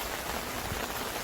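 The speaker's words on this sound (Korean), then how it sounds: "오늘 비가 내리는지 모르고 나오게 되었어요" Steady rain pours down on a free beach campsite with wooden decks in Buan, Jeollabuk-do, a dense, even hiss of drops hitting surfaces close by with no voices.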